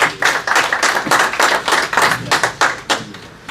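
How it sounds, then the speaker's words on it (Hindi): Audience clapping at an Urdu poetry mushaira in Ealing, a small crowd's uneven claps rising and falling in loose bursts, fairly close and with no talk. "तो एक दफ़ा भरपूर तालियां अपने लिए बजाइए।"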